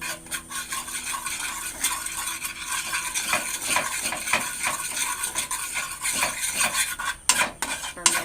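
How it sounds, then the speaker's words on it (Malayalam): A metal spoon scrapes and clatters repeatedly against a pan as spices and salt are mixed into food, a busy, uneven run of close scraping and tapping over a faint sizzle. "നന്നായിട്ടൊന്ന് മിക്സ് ചെയ്തെടുക്കാം"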